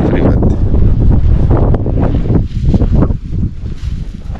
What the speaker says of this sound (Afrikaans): Die wind waai 'n bietjie vanaand.